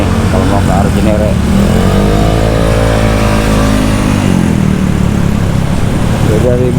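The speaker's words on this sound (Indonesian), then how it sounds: "Nah biasa kalau motor-motor ini pada muternya di sini nih," Motorcycle engines drone and rev nearby as motorcycles turn around on a road amid dense traffic noise, with a voice talking over the steady din.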